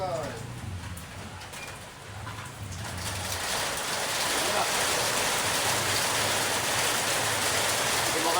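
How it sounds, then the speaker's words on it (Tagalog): Rain builds into a steady, dense patter that fills the scene, with a dove cooing softly in the background early on. "Bumaksak na po ang ulan."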